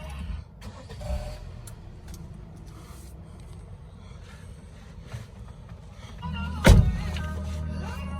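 Hyundai car starts with a short, loud crank burst near the end of a quiet interior stretch, then settles into a low idle rumble.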